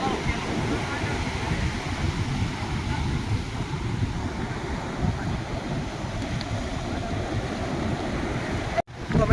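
Sea waves wash steadily at the beach, a continuous rushing surf with wind buffeting the microphone, close and moderately loud.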